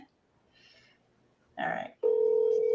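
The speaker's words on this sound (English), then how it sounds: "there's somebody else calling me" An incoming call rings a telephone during a live real estate seller-calling session: a brief broadband burst, then a loud, steady electronic ring tone holding alone to the end.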